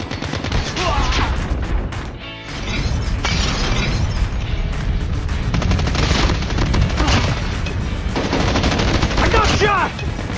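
Rapid, dense gunfire from a RUS-79U rifle in Call of Duty Mobile, with heavy bursts and booming impacts hammering almost without pause. Loud and close, it runs the whole stretch with only a brief dip in the middle.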